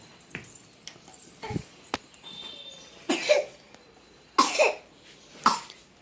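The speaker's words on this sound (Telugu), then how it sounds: "ఇట్లా దగ్గుతూ అయిన ఉంటుంది" Someone coughs several times, a few soft hacks followed by three louder, harsher coughs spaced about a second apart, close by in a quiet room.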